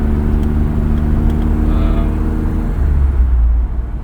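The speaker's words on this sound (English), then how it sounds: "Sorry, I slowed down there because I'm waiting for Debs driving behind me" A BMW E30 333i drives along with a steady, close engine rumble and low drone that eases off as the car slows near the end, with no talk over it.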